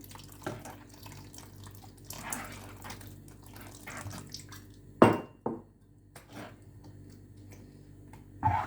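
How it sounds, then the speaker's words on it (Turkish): A little water is poured into food being cooked in a home kitchen, giving soft splashes and drips over a low background hum, with a few louder clatters of cookware. "Buna birazcık su yine ekleyeceğim."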